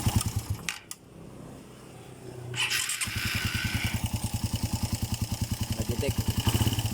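Motorcycle engine running close by with a rapid, even ticking from a noisy timing chain, the rhythmic clatter steady throughout after a brief rev and handling noise at the start.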